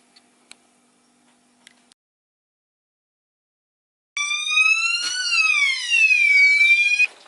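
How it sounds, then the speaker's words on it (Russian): An electronic fire alarm from a Zarya fire alarm panel, a loud warbling siren that starts abruptly after a few faint clicks and keeps sweeping up and down in pitch, alone and close. "При срабатывании пожарной сигнализации, если она ложная, мы ее отключаем"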